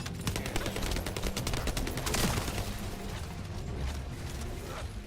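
Gunfire in The First Descendant shooter, a dense rapid rattle of shots and bursts running steadily for several seconds with a heavier blast midway, loud and continuous.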